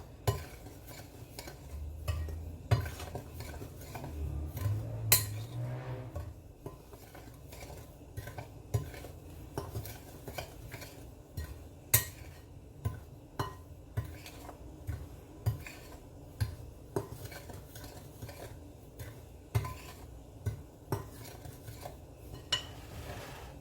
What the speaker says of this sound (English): you want to mix in all your dry ingredients together